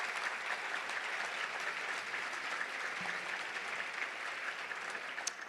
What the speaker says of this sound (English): Let's give all of our volunteers a big round of applause